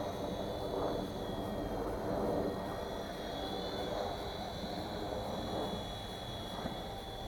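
A WL Toys V911-pro upgraded four-channel remote control helicopter on its first flight, a steady whirring buzz with a high motor whine that holds nearly constant as it hovers, fairly quiet and close.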